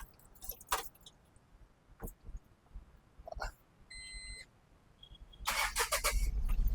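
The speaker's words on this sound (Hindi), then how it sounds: "इंजन तो काफी तगड़ा है इसका।" A 2023 Tata Intra V20 CNG-and-petrol pickup truck starts: a few short clicks and a brief electronic beep, then the engine catches and holds a loud, steady, close running noise to the end.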